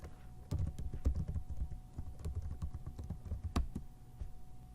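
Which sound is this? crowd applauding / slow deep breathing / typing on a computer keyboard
typing on a computer keyboard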